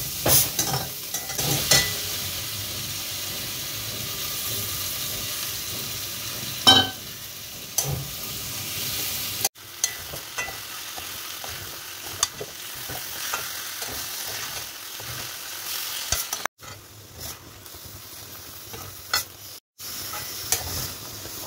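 Chilli fish or chilli chicken stir-frying in a pan with capsicum and onion, a steady close sizzle with occasional stirring clatters and brief pauses.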